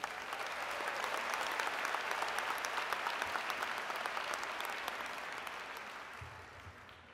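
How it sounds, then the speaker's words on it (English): Audience at a spring convocation ceremony applauding two top students, dense sustained clapping from a large crowd that swells and then gradually fades toward the end. "please give these two top students a great hand of applause"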